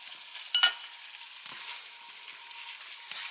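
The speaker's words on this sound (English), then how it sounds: "You want to get that all stirred up, mixed together." Ramen noodles and beef stirred in a pot, a soft sizzling bed with a sharp clink of a utensil early on and faint scraping afterward.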